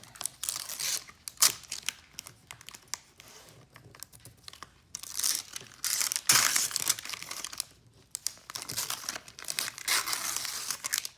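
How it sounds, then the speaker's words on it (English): Sticky-back embroidery stabilizer, scored with a pin, is ripped apart from its hoop in repeated crinkly tearing bursts, close and crisp, with short pauses between pulls. "now I'm just gonna rip all of this"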